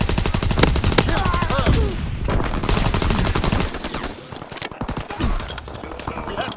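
Rapid bursts of gunfire from the World War II shooter Call of Duty: WWII, loud automatic fire with sharp shots mixed with game effects and a brief voice over the din.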